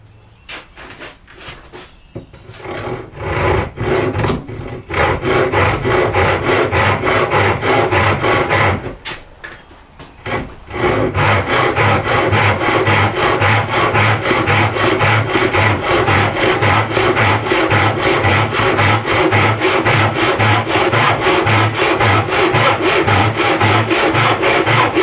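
Hand saw cutting through wood to trim furniture feet, a few short strokes at first, then long runs of steady rhythmic back-and-forth rasping, close and loud, with a brief pause midway.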